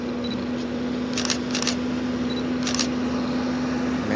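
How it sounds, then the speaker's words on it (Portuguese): Several quick camera shutter clicks in small bursts while photographing a Beechcraft Bonanza light aircraft at an airfield, over a steady low hum of wind and distant engine noise. "vou tentar tirar algumas fotos aí dele"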